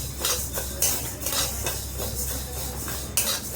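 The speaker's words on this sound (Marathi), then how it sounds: "चला तर आता आपण मूग डाळ भाजून घेऊया" Moong dal dry-roasting in a pan, with a steady close scraping and rattling of a spoon against metal as the lentils are stirred, fairly loud and continuous.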